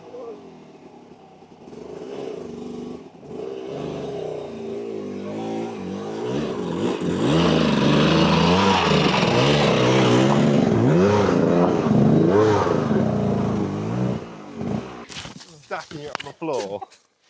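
A motorcycle engine revs under throttle, rising and wavering loudly in the middle, with people talking over it before it cuts off into scattered noise.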